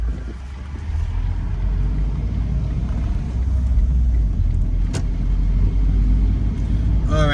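A car drives through residential streets of Boca Raton, Florida, heard from inside the cabin as a steady low road rumble and engine drone, loud and continuous without talk.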